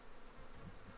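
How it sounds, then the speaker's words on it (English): Flies buzzing around a bushwalking shelter on the Bibbulmun Track, a faint, steady insect drone close by with a low hum swelling briefly near the end. "The flies are happy now I'm here, they're all buzzing around."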